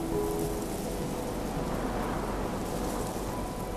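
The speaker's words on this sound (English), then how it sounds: "Strong winds, heavy rain, and snowstorms sweep across the country." Heavy rain hisses steadily during a storm outside a barn owl nest, a dense continuous wash of close, even downpour with a low rumble beneath.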